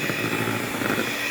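Steady whirring drone of a cheap electric mixer blending cake batter ingredients, loud and continuous throughout the short stretch.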